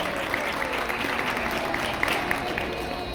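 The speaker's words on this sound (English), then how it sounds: "Can you give a big round of applause for my friend Rose?" An audience at a library story time applauds for librarian Rose, a steady, fairly distant patter of many hands that holds evenly for a few seconds with no one speaking over it.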